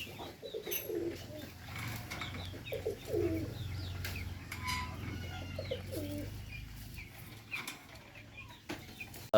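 Soft, repeated cooing of a male double-crested pigeon, close and continuous, with light rustling and faint background noise.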